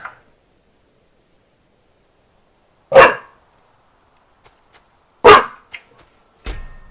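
A dog barks in short, sharp bursts: one loud bark, then a gap, then a second bark with a quick yip after it, and a last bark near the end. The bursts are separated by quiet stretches and no one speaks.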